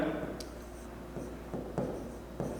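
Chalk or pen scratching out the left side of a trigonometry equation during a Class 10 lesson, in short soft strokes and taps that come in small bursts, close and faint.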